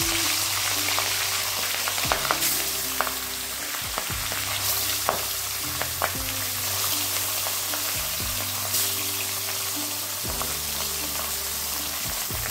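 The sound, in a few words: salted fish frying in hot oil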